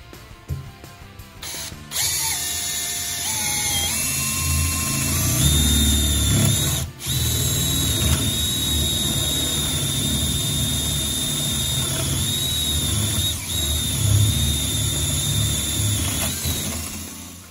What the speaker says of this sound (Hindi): Let me show you some practical example while using this impact drill.